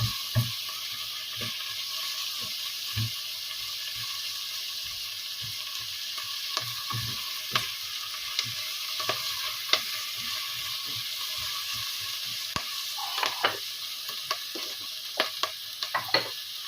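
Ingredients being sautéed in a pan for Filipino mung bean stew, with pechay leaves set aside, giving a steady bright sizzle of frying broken by frequent scraping and stirring knocks. No one speaks.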